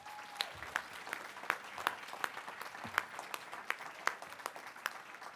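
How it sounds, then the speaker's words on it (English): Applause from a ceremony audience honoring student volunteers and food servers at a school writing-contest event, steady and fairly distant, with sharper individual claps poking out over the continuous patter for several seconds. "Give them all a round of applause"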